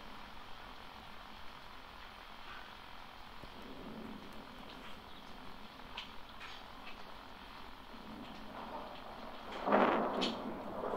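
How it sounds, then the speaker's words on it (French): Thunderstorm ambience in the video game Five Nights at Freddy's 3: a steady rain-like wash runs throughout, with a louder rumbling swell of thunder near the end. "Il y a de l'orage dans l'air."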